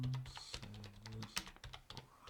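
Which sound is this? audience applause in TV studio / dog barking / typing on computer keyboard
typing on computer keyboard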